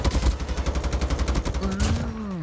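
Rapid bursts of gunfire from a Call of Duty match, a steady rattling volley for about two seconds that ends in a tonal whine.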